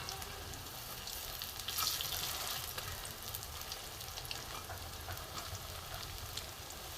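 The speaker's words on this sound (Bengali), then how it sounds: "একটু লাল করে ভাজবো আগের মতো" Cabbage fritters frying in hot oil, a soft continuous crackling sizzle with occasional louder bubbling bursts, heard alone without speech.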